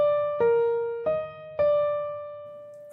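A leaping five-note major pentascale melody, so, mi, do, fa, mi, played as distinct sustained tones, each struck note ringing and fading before the next, at a steady, unhurried pace with no voices.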